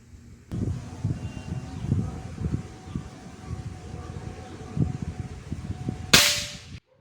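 A single rifle shot cracks sharply near the end, loud and close, after several seconds of quiet outdoor rustling and faint handling noises.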